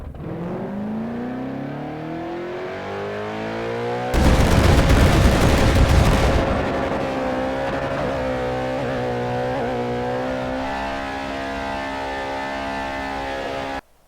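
Twin turbo 1969 Charger drag car on radial tires making a full pass down the drag strip: a loud engine roar with a burst of broadband blast early on, then a sustained high rising drone held steadily to the end.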